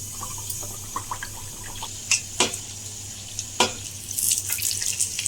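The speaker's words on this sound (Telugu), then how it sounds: "ఇప్పుడు ఇది మరుగుతున్న ఆయిల్లో అయితే వేసేస్తాం." Sesame ariselu, jaggery and rice-flour sweets, frying in hot oil, giving a steady soft sizzle with scattered crackles and a few sharper pops, no voices.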